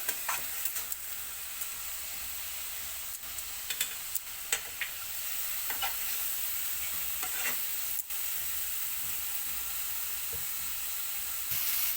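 Food sizzles in a hot pan as it is stirred, with a steady bright hiss broken by scraping and clinking strokes of the spoon. The pan is close by, and no one talks.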